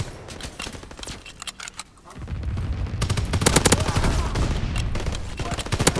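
Anti-aircraft guns in Call of Duty WW2 fire rapid, loud, close bursts that build into a sustained rattling barrage, mixed with game voice callouts.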